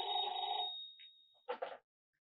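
An old-style telephone bell rings loudly and close, one sustained ring followed by a short second burst before cutting off into silence.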